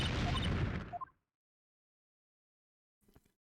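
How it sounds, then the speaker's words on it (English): A single sharp blast sound effect from Apollo Justice: Ace Attorney, a loud crackling burst that cuts off abruptly after about a second, followed by silence and a faint short rattle. "we get to hear the explosion again"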